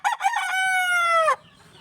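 Young gamefowl rooster (stag) from a Filipino game farm crowing once close by, a loud strained call of about one and a half seconds that starts in choppy bursts and ends abruptly.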